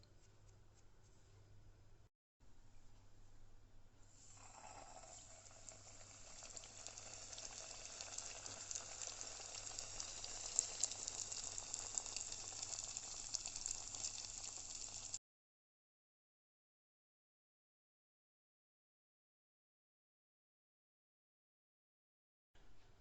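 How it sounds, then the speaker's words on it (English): Donuts frying in hot oil, a steady fizzing sizzle that rises after a few seconds, holds for about ten seconds, then cuts to silence; faint and close. "Now I'm going to fry the donuts."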